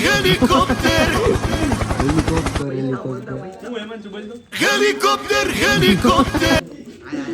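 Loud rhythmic chopping of a nearby helicopter rotor, cutting out briefly and returning, with people talking over the noise.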